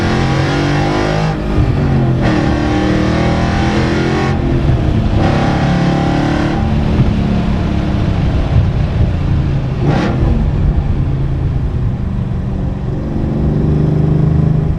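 A loud, deep Shelby GT350 engine roars and revs as the car accelerates down a country road, with gear-change dips and a sustained rumbling exhaust throughout.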